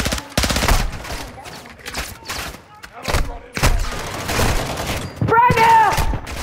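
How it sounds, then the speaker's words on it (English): Dense bursts of gunfire from the video game Call of Duty: Modern Warfare II, rapid automatic volleys and single loud shots crowding together, with players talking excitedly between and over the shooting. "I was being shot from all angles"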